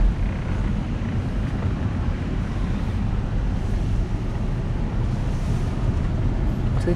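Strong wind blows across a hilltop campsite at Fraser Hill, a steady, loud, low rumble buffeting the microphone without letup and no voices.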